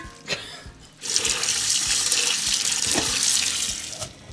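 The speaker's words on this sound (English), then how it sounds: "We're gonna rinse these thoroughly right now." Food is rinsed under a running kitchen tap: a few faint clicks, then a steady, close rush of water that continues to the end, with no talking.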